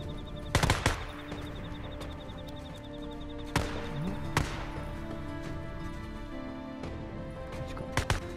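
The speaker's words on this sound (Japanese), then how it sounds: "あ、爆発してる。" Explosions and gunfire in the video game Days Gone ring out as several sharp, loud bursts at irregular intervals over a quieter background of game ambience, with no talk.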